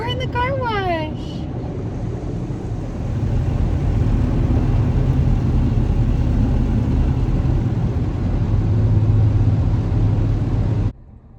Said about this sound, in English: We're at the car wash.